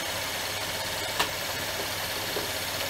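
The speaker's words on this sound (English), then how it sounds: "the car's up to operating temp. It's in park, idling." A 2012-2016 Chevrolet Impala engine, warmed to operating temperature, idles steadily in park with a low, even rumble and faint vibration, no voices, one brief click midway.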